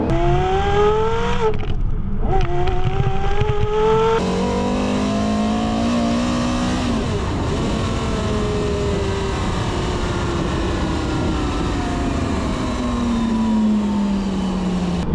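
A Porsche Carrera GT engine screams as it climbs through the gears, pitch rising and dropping with each shift, loud and close throughout.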